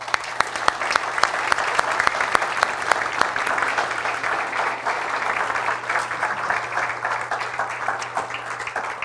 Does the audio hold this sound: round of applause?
yes